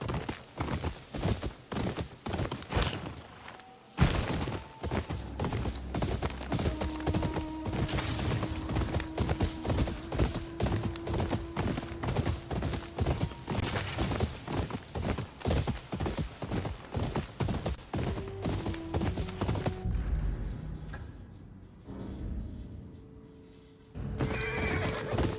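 A horse in the video game Ghost of Yotei gallops with rapid, regular hoofbeats and lets out several loud whinnies. The pace shifts near the end as the hooves slow, with no talking over it.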